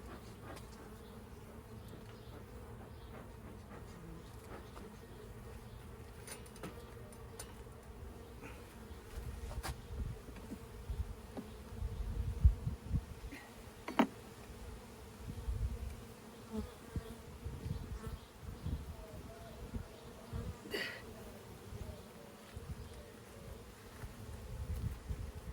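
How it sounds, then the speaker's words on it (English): Honeybees and drones buzz continuously inside a hive in a dense, droning hum, with individual insects occasionally swelling louder as they pass close. "Lots of bees, lots of drones."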